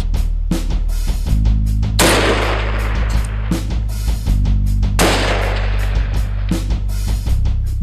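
Repeated loud rifle shots from a SIG SSG 3000 on a long-range range, sharp cracks recurring every second or so, several big booming reports with broad echoing tails over a steady low rumble.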